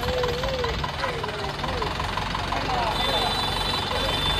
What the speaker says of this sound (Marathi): गाडी आली मित्रांनो आता